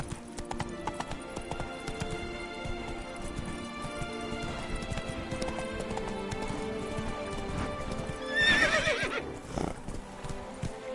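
A horse gallops in a PS4 video game, its hooves clip-clopping in a steady, fast rhythm throughout, with a loud neigh near the end.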